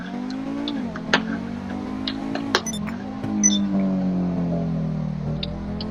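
A high-end supercar in a Rockstar video game drives steadily, its engine holding a loud, continuous drone with small shifts in pitch and a few sharp clicks and bumps on top.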